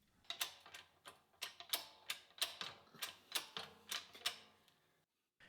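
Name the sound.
hydraulic press pushing brass bushings into holes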